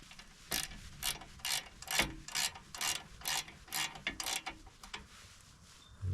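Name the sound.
tightening bolt on Eurovan LP tank cover bracket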